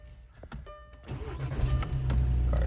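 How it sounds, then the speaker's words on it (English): A Volkswagen car's engine cranks and starts after a key goes into an unlocked cylinder, settling into a steady, loud low rumble close by with no talking. "Car starts."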